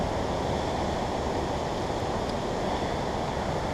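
River water running high and fast past a rocky fishing spot, a steady broad rushing roar that fills the clip without pause, close and fairly loud, no talking.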